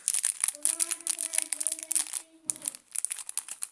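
Crisp crinkling of a plastic bag, close up, with steady rustling and crackling bursts throughout, pausing briefly near the end.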